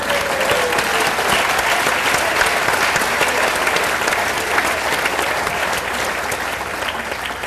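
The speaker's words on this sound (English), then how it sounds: "a round of applause for all of our inductees tonight." A hall of fame induction ceremony audience, at a polo event, gives the inductees a loud, sustained round of applause that fills the room for the whole stretch with no speech over it.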